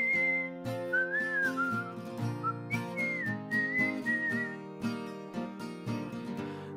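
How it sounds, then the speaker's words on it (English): Whistled melody in a song, a clear bright tune of sustained and gliding notes over a steady instrumental backing with regular beats, prominent and close, with no vocals. "I've never heard a song that actually whistled before"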